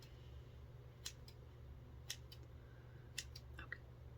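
Scissors snipping hair during a soft-spoken haircut trim, four or five crisp isolated snips spaced about a second apart, close and quiet over a steady low hum.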